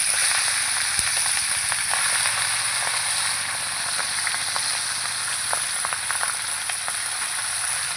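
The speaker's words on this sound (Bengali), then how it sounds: "এই যে তেলের মধ্যে মাংসগুলো দিয়ে দিলাম।" Meat sizzles loudly in hot oil in a pot for a light meat curry, a steady dense frying crackle with scattered pops that holds through the whole stretch and has no voices over it.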